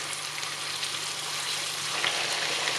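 Pork frying in hot oil on a stove, a steady dense sizzle and crackle with no talking, close and constant throughout.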